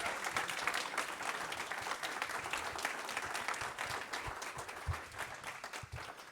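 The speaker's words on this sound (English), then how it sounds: "let's give one more round of applause to all of our amazing finalists" Sustained applause from the audience at a startup pitch showcase honoring the finalists, a dense steady clatter of many hands lasting throughout at even loudness.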